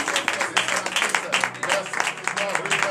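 A church congregation at a morning prayer service claps loudly and steadily throughout, dense applause mixed with voices.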